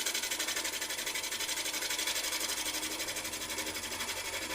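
A wood lathe runs steadily during hollowing work with a HollowPro tool, giving a continuous, fast, evenly pulsing mechanical drone at close range with no talking.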